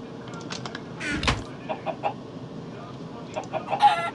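Chickens from the Minecraft Mo' Chickens mod cluck in short scattered bursts, several overlapping calls close by and fairly loud over a steady game background hum.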